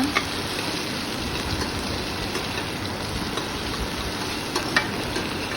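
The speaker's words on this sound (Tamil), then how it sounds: "வெங்காயம் நல்லா வதங்கணும். உப்பு போட்டு வதக்கிக்கோங்க." Chopped onions sauté with salt in a pan for curry leaf chutney, giving a steady, even sizzle and crackle that carries on without a break, with no voices.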